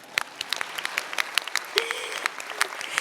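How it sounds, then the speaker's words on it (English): Audience applause at a law school diploma ceremony, a moderate crowd clapping steadily with sharp individual claps standing out, a brief whistle-like tone rising midway through. "You can clap."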